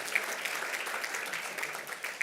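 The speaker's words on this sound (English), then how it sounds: "She gets a round of applause" An audience at an evening charity gala claps steadily for a few seconds, the applause fairly soft and heard from a distance.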